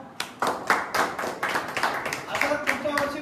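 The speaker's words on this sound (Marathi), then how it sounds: "टाळ्या वाजवा." Audience at a Hanuman Jayanti palanquin procession clapping in a steady, loud, rhythmic beat, a dozen or so sharp claps, with some talk underneath.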